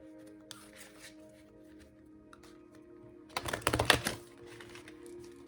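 A brisk riffle of tarot cards being shuffled, a short crisp burst of rapid flutters after quieter handling sounds.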